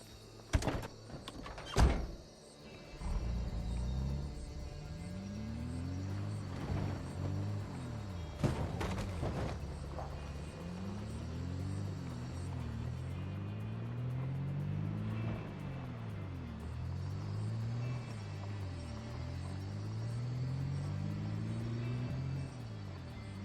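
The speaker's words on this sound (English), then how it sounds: "jump in that car, drive over to our temporary base" A car door thunks shut twice in Project Zomboid, then the car's engine starts and drives, revving up and down in repeated rising and falling sweeps, loud and steady with no talk.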